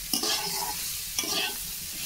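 Fig and potato pieces are stir-fried in oil, giving a close, dense sizzle with two sharp scrapes of a spatula about a second apart.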